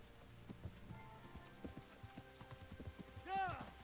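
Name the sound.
horse hooves clip-clopping in video game Kingdom Come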